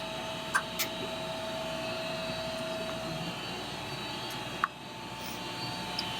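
In a veterinary clinic, a centrifuge spins a blood sample with a faint, steady whirring hum and a high whine, punctuated by a few light clicks.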